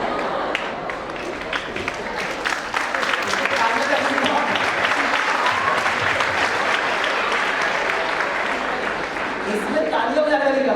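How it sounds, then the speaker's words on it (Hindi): Loud, dense applause from a large audience at a university talk, steady and sustained for about ten seconds with a murmur of voices mixed in, then fading as a voice starts speaking near the end. "इसमें तालियों बजाने वाली क्या बात"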